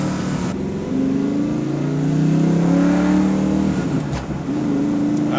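A 1993 Ford Mustang Fox Body V8 revs up from inside the cabin, its loud, rising engine drone climbing steadily in pitch before a brief shift dip and renewed pull.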